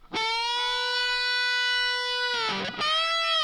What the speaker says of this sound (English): Previously, the lead guitar was sounding like this with just a little bit of delay.